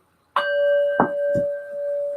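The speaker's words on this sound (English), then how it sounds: "I want to ring my bell" A small bell is struck three times in close succession, close by in a quiet room, and the first strike leaves a clear, sustained ringing tone that slowly fades.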